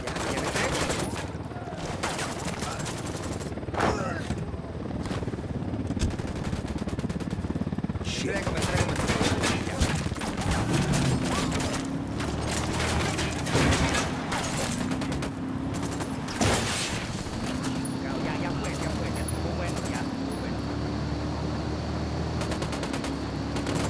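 Sustained gunfire in the video game Ghost Recon Wildlands: rapid automatic bursts and single shots crackling throughout, mixed with mechanical clicks and an engine-like drone, with occasional voices.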